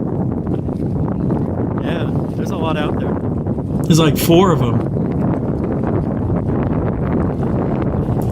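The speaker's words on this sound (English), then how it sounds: "It was really windy too." Strong wind blows over open sea in a steady, loud roar of buffeting microphone noise that fills the whole stretch, while people talk briefly over it.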